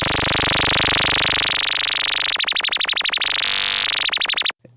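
Buzzy synthesizer drone from VCV Rack software modules with amplitude modulation added, a dense sustained tone that breaks into rapid pulsing throbs before cutting off abruptly, loud and alone.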